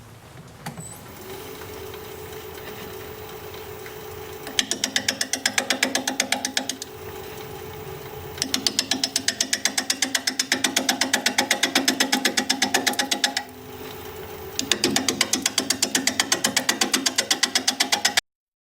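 Olive wood spinning on a wood lathe at 500 RPM while a 5/8 inch bowl gouge cuts, giving a steady rapid chattering rhythm that comes in loud bursts broken by quieter pauses, with no talking.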